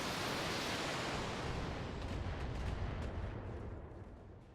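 Missile salvos fire in the BattleTech video game, LRM-15 launchers on a mech, making a dense, continuous roar of rumbling launches and blasts that stays loud throughout and eases slightly near the end, with no talk.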